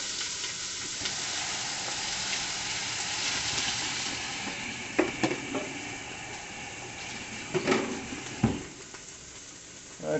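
Chopped onions sizzle in a pot over medium heat, giving a steady, fairly faint hiss throughout with a few brief clinks and stirring knocks.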